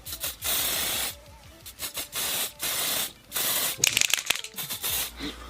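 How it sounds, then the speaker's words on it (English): Repeated short bursts of makeup setting spray misted onto a face, about eight separate hissing sprays in an irregular rhythm, close and fairly loud with quiet gaps between them. "You can't just spray it on and leave."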